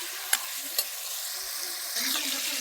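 Chicken karahi stir-fries in a pan with a soft, continuous sizzle, and a few sharp clicks of a utensil against the metal come early; it is quiet and close, with no talking.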